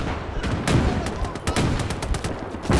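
Rapid bursts of Lahti machine-gun fire in a Winter War battle at Summa on the Mannerheim Line, several loud sharp shots in irregular clusters over continuous battlefield din, with no talking.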